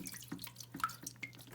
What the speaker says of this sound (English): I'm going to squeeze out the water and just keep doing it until it's empty